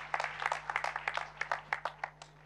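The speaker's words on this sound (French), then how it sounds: "Applaudissons pour Jésus-Christ." A small church congregation clapping, light and uneven, close by, with individual claps distinct for a couple of seconds.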